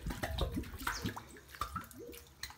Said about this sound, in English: So we just drop the bucket in, like so.